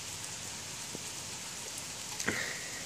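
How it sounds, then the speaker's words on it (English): Steady rain falling outdoors, a soft continuous hiss of drops with a couple of brief louder taps near the end. "It's raining."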